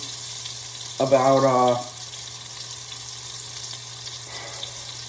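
Tuna steak fries in hot oil in a pan, a steady broadband sizzle running throughout, with a brief voiced word rising over it near the start.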